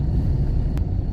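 A car crosses a bridge over the Karli river on a road in Konkan, giving a steady loud low rumble of tyres and engine with a brief whoosh in the middle.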